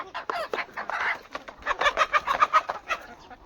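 Free-range desi country chickens, about a hundred parent-stock birds in an enclosed pen, clucking and chattering close by in irregular overlapping calls.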